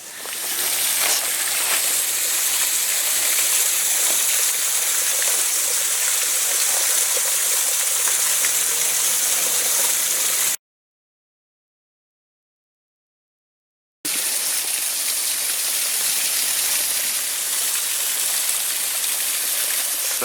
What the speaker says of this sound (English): let's enjoy the look at the falling water